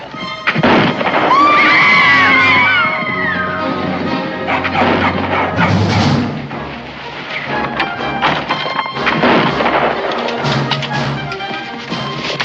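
Gunfire in a western frontier drama, a series of sharp crashing shots and thuds spaced across a loud outdoor fight, mixed with shouting and clatter as men scramble into a wagon.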